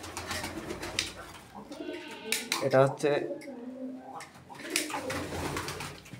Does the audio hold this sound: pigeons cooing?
yes